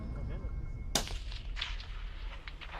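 A single sharp sniper rifle shot cracks out during special forces marksmanship training at a 40 cm metal ring 550 metres away, followed by a rolling echo that fades over a steady outdoor rumble.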